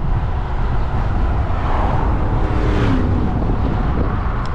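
Strong headwind buffeting a cyclist climbing a steep road in the Dales, a loud, continuous low roar of wind rushing past, with no talking.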